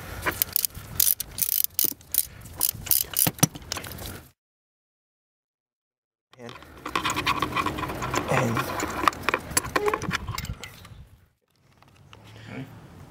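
A socket ratchet clicks rapidly while loosening spark plugs on a BMW E46, in close bursts of sharp pawl ticks separated by pauses and a few seconds of silence.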